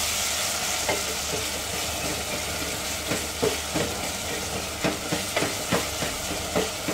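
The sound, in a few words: onions frying on medium flame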